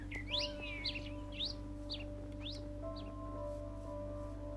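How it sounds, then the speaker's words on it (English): A Minecraft bird chirps in a series of quick rising tweets, about five or six in a row, over a steady low hum with no talking. "Boy, that's a noisy bird."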